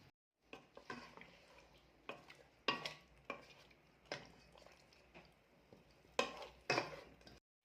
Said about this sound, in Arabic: هاني قاعده نحرك فيها كيما هكا